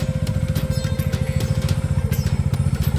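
A Bajaj Dominar 400 motorcycle engine idles steadily while warming up, its low, even thumping pulse loud and close and unbroken throughout.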